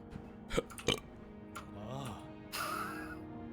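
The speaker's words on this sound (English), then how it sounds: "Sorry, I'm gonna burp." A single drawn-out burp from a streamer partway through a Tears of the Kingdom play session, a low gurgling belch close to the mic, with other brief mouth noises and in-game sounds around it.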